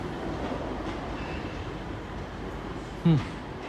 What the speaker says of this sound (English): That is the Liverpool train.